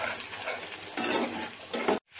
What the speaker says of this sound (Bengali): 2-3 মিনিট আমি মশলাটাকে এভাবে মিডিয়াম টু হাই ফ্লেমেই ভেজে নিচ্ছি